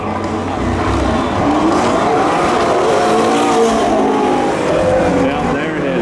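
McLaren and Dodge Charger drag racing at a spectator drag event: loud, continuous roaring engines with rising pitch and tire noise, crowd and voices mixed underneath.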